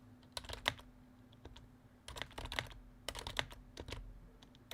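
Fingers type on a computer keyboard with a sticky, spilled-on surface, quiet clustered clicks and key taps in irregular bursts over a low hum, close and without talking.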